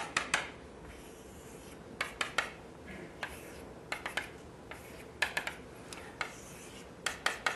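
Lecturer sketching horoballs on a board during a hyperbolic geometry talk, giving a string of short, sharp scratching strokes in irregular bursts, close and moderately loud in an otherwise quiet room.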